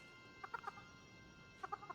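Faint chicken clucking in a video game, two short bursts of three or four quick clucks each, separated by a pause over a quiet background.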